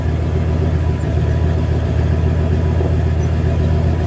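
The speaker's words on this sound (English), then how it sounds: "Let's give it a rev, shall we?" 1975 Chevrolet Chevelle Laguna Type S-3 with its engine running, a loud, steady mid-pitched rumble close by with little change in level across the moment, no voices.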